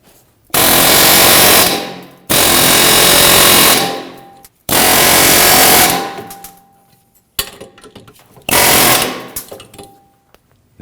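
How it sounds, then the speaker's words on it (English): Loud pneumatic air hammer firing in four long rapid bursts on the metal rear wheel hub of a 2013-2015 Subaru XV Crosstrek, separated by short pauses, close by. "we're going to go back on the back side with our air hammer."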